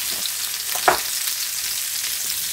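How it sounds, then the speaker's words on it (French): Onions sizzling gently in butter over low heat beside boudin noir in a pan, a soft, steady fry with a brief stir or clink near the start. "je vais remettre du beurre pour mes oignons"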